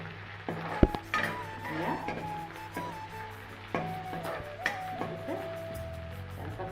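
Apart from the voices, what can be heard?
frying chili, cloves and cardamom for oyster mushroom curry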